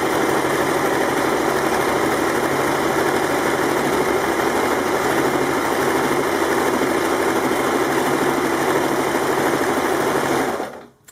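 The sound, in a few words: overlock sewing machine stitching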